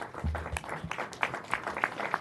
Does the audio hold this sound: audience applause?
yes